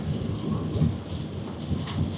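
Heavy rain drums in a low, dense roar on a car while driving in Canada, close and loud, with a brief brighter patter near the end and no voices.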